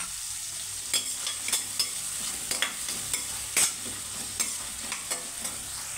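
Onion pieces sprinkled with salt fry in hot oil for tomato rice, giving a steady close sizzle broken by a series of sharp scraping clicks from stirring, with no voices.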